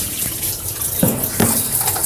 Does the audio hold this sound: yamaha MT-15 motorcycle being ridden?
no